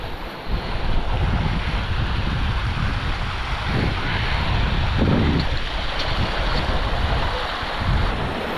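Steady broadband rush of a river flowing through a rocky canyon in Sarek, continuous and close, with gusting wind noise against the microphone and no voices.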